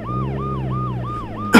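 Cartoon police car siren wailing in a steady repeating up-and-down cycle, loud and close, ending in a sudden burst of noise.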